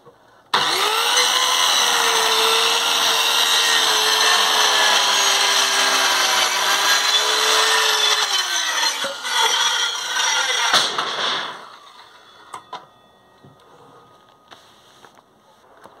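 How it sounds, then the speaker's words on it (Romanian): A power saw cuts a wooden board to size for a bench top, running loud and steady for about eleven seconds with a whining tone before stopping, followed by quiet workshop sounds. "Am semnat scândura și o tăiem la dimensiune."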